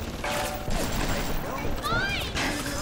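Automated turret gunfire in BioShock, a dense crackle of shots mixed with game effects and music, with a voice talking over it.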